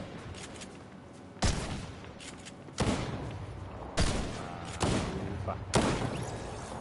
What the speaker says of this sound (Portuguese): cada um deu um tiro